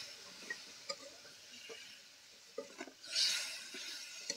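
Eel curry being stirred in a pan with a utensil, soft scraping and light clinks scattered among a low simmer, followed by a brief louder hiss of sizzling.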